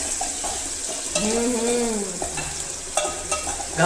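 Maggi noodles cooking in a pan, with a steady close sizzle and stirring scrapes, plus a brief rising tonal whine partway through and a few sharp utensil clicks near the end.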